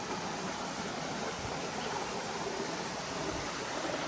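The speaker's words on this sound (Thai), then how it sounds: "มีน้ำตกสวยมากเลยพี่พี่" A waterfall and stream rush steadily in a deep forest, a dense, continuous broadband roar of falling and flowing water at an even level with no pauses.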